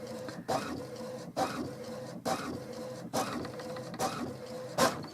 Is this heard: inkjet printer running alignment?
yes